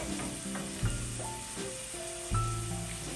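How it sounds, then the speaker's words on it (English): Pancetta renders in a hot pan for bucatini all'amatriciana, giving a steady close sizzle with a few brief stirring knocks and scrapes. "he's going to cook the pancetta until all the fat has rendered"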